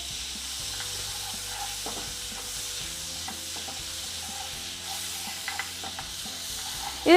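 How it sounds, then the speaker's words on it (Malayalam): Butter melts in a hot frying pan, giving a steady soft sizzle and hiss with light stirring scrapes and a few small pops, close and continuous with no talk. "പാൻ ചൂടാകുമ്പോൾ നമുക്കതിലേക്ക് ബട്ടർ ഇട്ട് കൊടുക്കാം"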